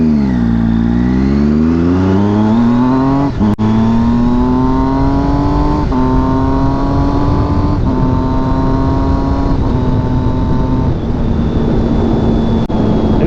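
A 2006 Triumph Daytona 675 motorcycle engine revs hard and near, climbing through gears in repeated rising howls with brief dips at each shift, loud and unbroken with no talking.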